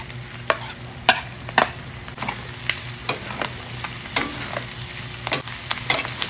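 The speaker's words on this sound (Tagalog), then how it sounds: "Okay na to, na-fry na yung karne. Nagbo-brown na rin." Meat and liver for Ilocano-style dinuguan frying in a pan, with a steady close sizzle broken by repeated sharp stirring scrapes at a loose, irregular rhythm.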